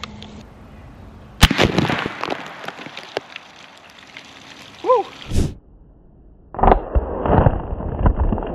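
A .50 caliber muzzleloader rifle firing a 247-grain bullet downrange at an outdoor shooting range: one sharp, loud report with a lingering, decaying tail, followed later by other scattered noises and a short whistle-like tone.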